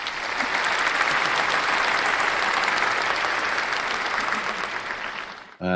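A dense, even burst of applause and clapping from a group, loud and continuous for over five seconds before it cuts off abruptly.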